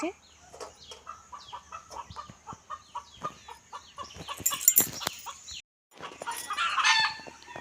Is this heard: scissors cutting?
no